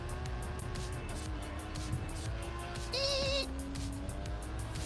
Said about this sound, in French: C'était un bruit de voiture.